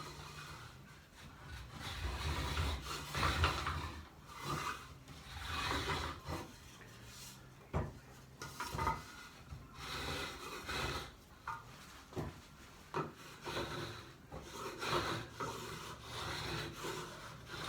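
A marking gauge rolled and drawn along timber, giving repeated close rasping, scraping strokes of metal on wood in an irregular rhythm, with short pauses between passes.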